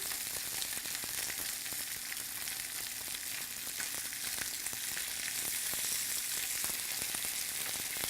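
A mahi mahi fillet sizzles skin side up on a very hot grill, a dense, continuous crackling hiss with small pops, close and steady throughout with no talking.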